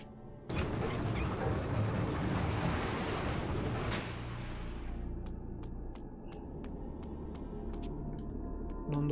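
Water flows back in Legacy of Kain: Blood Omen 2 as a sudden surging roar that churns for a few seconds. It then eases into a softer steady wash broken by a run of sharp, regular ticks.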